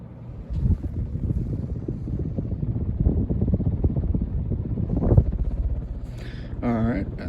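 An electric fan on its high speed setting gives a steady, close whooshing roar of moving air, and a voice speaks briefly near the end.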